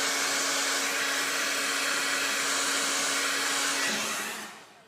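A blow dryer blows hot air with a loud, steady whooshing roar and a faint motor hum, running alone for several seconds before switching off and fading out at the end.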